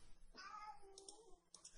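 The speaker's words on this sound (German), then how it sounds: "Oh ja, im Hintergrund hat meine Katze gerade miaut." A pet cat meows faintly in the background, with a few brief, thin cries spread across a short stretch of quiet room noise.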